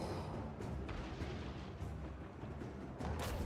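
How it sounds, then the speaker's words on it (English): Mortars in a strategy video game keep up a barrage of deep, rumbling thuds. Several blasts overlap into a dense, continuous low roar with some sharper booms in it, and no voices are heard. "Well, those are mortars, so surely we can take those out, right?"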